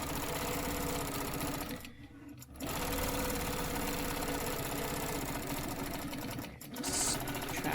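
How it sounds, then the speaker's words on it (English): A sewing machine stitches straight stencil lines along a ruler, a close, continuous rapid whirring that briefly dips twice as the fabric is repositioned, with no talk. "I'm just going to use a ruler, and I'm going to stitch all of the lines that we see on here."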